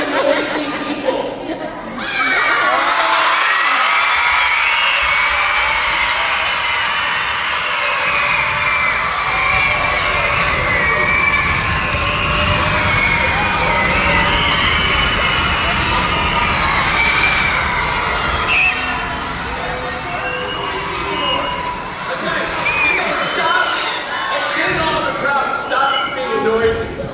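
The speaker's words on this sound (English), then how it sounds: "There was a big crowd following him, and they were really noisy people." A noisy crowd at a children's play shouts and cheers together, a dense, loud wash of young voices that carries on without pause and fades slightly near the end.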